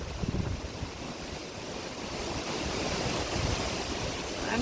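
Hurricane Zeta's wind blows hard outside at night. A loud, continuous roar with gusty buffeting hits the microphone and swells louder toward the end.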